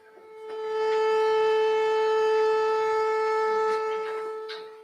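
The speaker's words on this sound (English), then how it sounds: "did you hear the siren?" A steady wailing siren holds a strong tone that swells in and fades out over a few seconds, heard on its own in a courtroom setting with no talk over it.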